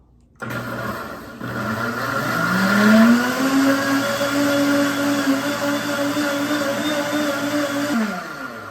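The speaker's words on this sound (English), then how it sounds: "in the blender it goes. And I'm going to mix it 20-30 seconds." A blender motor kicks on and whirs up to speed mixing a coconut popsicle mixture, then runs with a steady, loud buzzing drone for several seconds before stopping.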